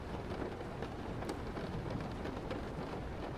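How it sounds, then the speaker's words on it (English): Steady rain falls without pause, a dense even hiss with scattered patters of drops and a low rumble under it, no voices. "Is that actually the sound of rain or is it just a soundtrack?"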